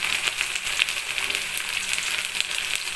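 Onion frying in a pan with ginger-garlic paste and turmeric gives a steady, moderate sizzle with small crackles and pops throughout, no voices.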